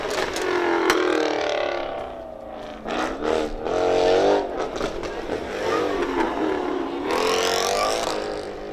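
Rally cars racing at a Hub Rally autocross event: engines rev and roar, rising and falling through gear changes as cars tear past, with gravelly whirring and scraping, loud and continuous throughout.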